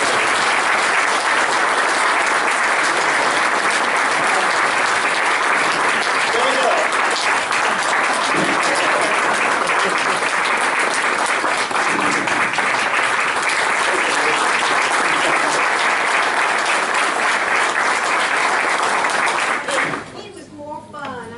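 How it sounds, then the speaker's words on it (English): An audience gives a long, loud round of applause for a transplant patient's mother, sustained dense clapping that holds steady before fading out near the end. "I think we ought to give her a big round of applause."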